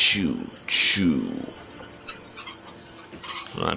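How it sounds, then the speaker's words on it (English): A train rolls past in The Walking Dead video game, with squealing wheel screeches and a rattling carriage rumble; two loud screeches open before the noise settles into a quieter clatter. "That train looks like it wants to run you all over"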